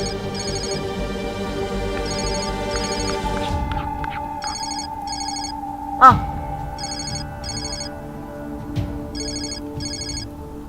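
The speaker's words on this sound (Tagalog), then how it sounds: "Yung cellphone mo, kanina pa nagre-ring yan." A cellphone rings with a repeating electronic ringtone in short bursts over a low background hum, heard inside a home at night, with a brief thump midway and no voices.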